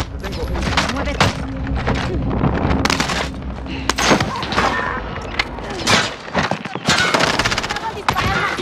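Dense gunfire in the Call of Duty Warzone battle royale game, with rapid automatic bursts and single loud cracks layered over one another. The shots are close and punchy, and voices shout in Spanish between and under the firing.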